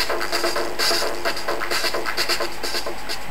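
A music track is run through Ableton Live's Saturator distortion effect, giving a harsh, gritty, loud rhythmic loop of pulsing beats that repeats steadily throughout.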